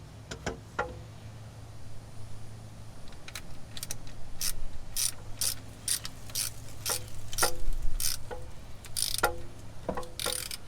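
A ratchet with a 13 mm socket tightens a bolt on a Chevy K1500 starter, giving a series of quick, sharp clicking runs in bursts, close and fairly quiet, under a low background hum.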